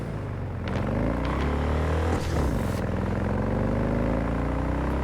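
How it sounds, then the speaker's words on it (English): A motorcycle engine in a video game, heard near and loud as a steady drone that rises and sweeps in pitch through a brief revving burst, then settles back, with no talk over it. "This motorcycle sounds so loud to me now after the meditation thing."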